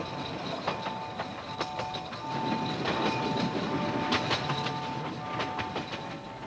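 A steam train rumbles and clatters past, wheels clicking over rail joints, with a faint whistle-like tone in the steady rolling noise.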